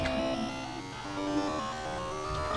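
An eerie cell phone call sound from Undertale's secret Wingdings rooms, heard in Deltarune: a murky, wavering synthetic drone with warped tones and static-like texture, eerie and distorted, playing alone at moderate volume.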